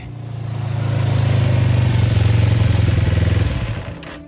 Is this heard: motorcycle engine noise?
yes